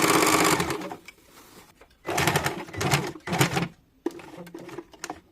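A sewing machine runs in short, close bursts while stitching a petticoat waistband, its rapid mechanical whir starting and stopping several times with quiet gaps between.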